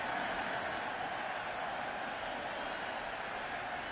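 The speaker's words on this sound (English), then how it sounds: "Crowd applauds that." Distant, steady roar of a football stadium crowd applauding at an NFL game between the Carolina Panthers and New York Giants, a broad, even wash of noise with no distinct claps.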